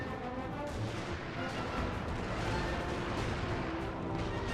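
Cannon artillery in the video game Napoleon: Total War rumbles in a dense, continuous barrage of booms and crashes, fairly muted and distant-sounding, across a few seconds.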